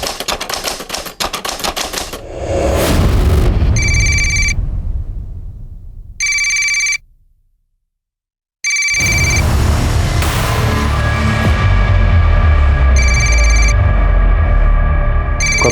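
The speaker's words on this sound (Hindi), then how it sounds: "कब से फोन बज रहा है" A telephone rings in repeated short electronic bursts, three separate spells a few seconds apart, amid sharp clattering hits, loud dramatic swells and a brief silent gap.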